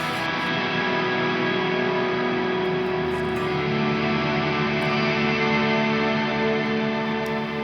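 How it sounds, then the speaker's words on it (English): A Neunaber Immerse Mk1 reverb pedal with the dry signal killed, leaving only a dense, sustained wash of reverb tails from a guitar, steady and loud, with no direct note attack audible. "completely removes the rest of the original signal and leaves nothing but the reverb"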